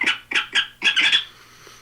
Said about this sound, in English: Here's what a badger sounds like.